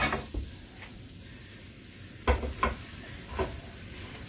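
Hot vegetables drop into a gumbo pot on the stove, sending out a hissing sear with several bursts of clatter and scraping as they land and settle.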